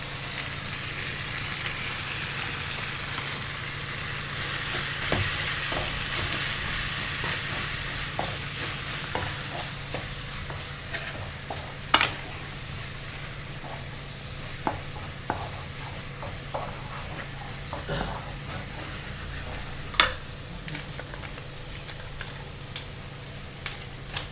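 Tomato and onion fry in a pan with Kashmiri chili powder, a low continuous sizzle broken by occasional sharp clinks and scrapes of stirring, close by with no voices.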